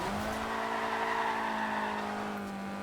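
A Toyota AE86 drift build in Forza Horizon 2 holds a sustained engine drone with a steady tonal whine as it slides through a drift. The sound is loud and continuous, with no talk.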